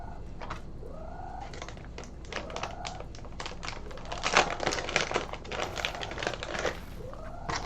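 A pet cat meows loudly and repeatedly, with several drawn-out meows rising and falling close to the listener. Scattered tapping and clicking sounds run between and under them.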